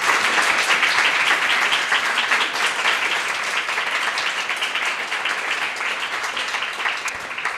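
Sustained audience applause after an evening talk fills the room with dense, steady clapping, loud throughout and easing only slightly toward the end, with no voices rising above it.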